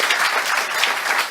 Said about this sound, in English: We have to give him like one round of applause just for that.